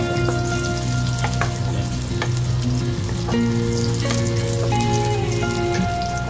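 Garlic sizzles steadily in hot oil in a pan as it fries toward light golden brown, a continuous loud crackle with occasional stirring clinks and scrapes, no talking.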